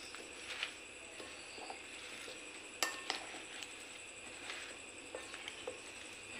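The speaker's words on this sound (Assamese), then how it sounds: "এতিয়া আচাৰখিনি মই ভালদৰে মিক্স কৰি ল'ম।" Amara (hog plum) pickle stirred and mixed with a spoon after oil is poured in, giving faint, scattered clinks and scrapes of metal against the container, quiet and intermittent with one sharper tap midway.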